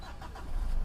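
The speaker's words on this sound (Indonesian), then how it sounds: "sekalian ngecek suara mesin ya." Engine of a 2014 Mitsubishi Pajero Sport Dakar running, heard from the driver's seat as a steady low rumble that swells slightly louder toward the end.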